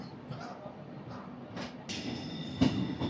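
The Uday Express, an eight-coach double-decker train, crosses a road-cum-rail bridge with a steady rumble and rattle under faint background noise, plus a sharp clank near the end.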